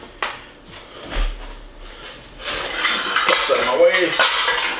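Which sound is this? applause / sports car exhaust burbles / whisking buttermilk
whisking buttermilk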